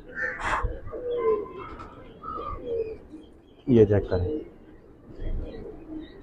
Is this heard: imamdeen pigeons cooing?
yes